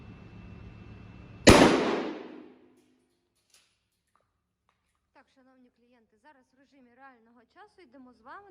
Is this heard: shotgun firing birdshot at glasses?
yes